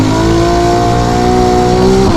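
A Ferrari 296 GTB hybrid fitted with a Novitec exhaust system revs hard, a loud, close, sustained engine note holding steady then swelling slightly at the end, with no talking.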